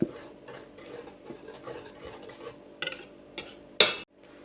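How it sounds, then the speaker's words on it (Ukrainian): Soft scraping and stirring of beaten egg mixture in a saucepan, with a few light clinks of a utensil against the pan and a sharper knock near the end. "я сюди виливаю яєчну цю суміш, збиті яйця. І перемішуємо."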